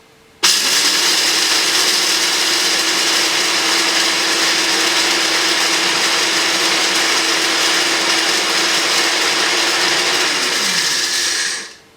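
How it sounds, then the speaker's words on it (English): A blender grinds ding for fermentation at a cooking demo during the AGRF Summit 2020, running as a loud, steady, whirring roar for about eleven seconds before cutting off abruptly. "You've got some ding in the blender and you just"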